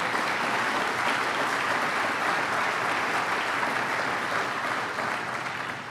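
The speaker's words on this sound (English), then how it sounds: "Let's give her a round of applause." A sustained round of applause from an audience of college presidents and officials honoring Nancy Zimpher, dense and steady throughout, fading slightly at the end.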